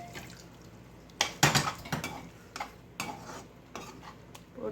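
Boiled potato and chickpeas stirred in a pan for masala puri, spaced metallic scrapes and knocks of a spoon against the pan over a faint sizzle, close and fairly quiet.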